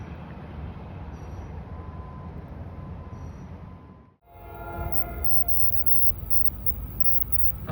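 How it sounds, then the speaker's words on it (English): Train 1116, running from Suffolk to Hoboken, approaches through Clifton with a continuous low rumble that dips briefly and then builds back to a steady, close roar. "Approaching now at 141, it's train 1116, Suffolk to Hoboken."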